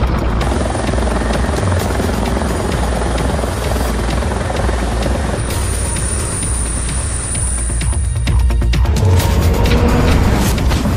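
A rescue helicopter roars loudly overhead with steady chopping rotor noise and a high whine, continuous and close throughout.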